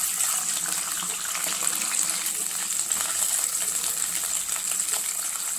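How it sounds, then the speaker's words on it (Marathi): Water is poured into a pan of biscuits roasted in ghee for biscuit halwa, producing a steady hissing sizzle and splash that holds evenly for several seconds with no talking. "आता ह्याच्यामध्ये थोडंसं पाणी टाकणार आहे।"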